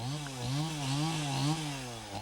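A chainsaw runs steadily at close range, its engine pitch wavering up and down as it bites into wood, with no voices.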